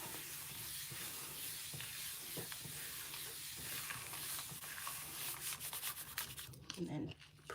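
A magazine page rubbed by hand onto a gel plate, making a steady close-up scratchy rubbing hiss that grows more uneven and gritty toward the end.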